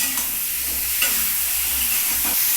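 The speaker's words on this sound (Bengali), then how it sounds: "যেহেতু আমি পটলগুলো তেলে ভাজবো" Pointed gourd (potol) frying in oil in a pan, a steady close sizzle and hiss with a few soft stirring scrapes, no voices.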